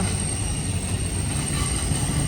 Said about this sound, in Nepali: यहाँनिर चाहिँ सामान बोक्ने ट्रेन गाइस, निकै ठुलो छ।